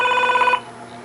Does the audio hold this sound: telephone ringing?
yes